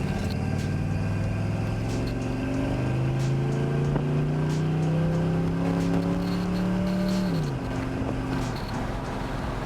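A 1964 Chevrolet Impala on a road test drive, its engine droning steadily and rising in pitch as it accelerates, then dropping sharply with a smooth gear shift, under constant road and wind noise.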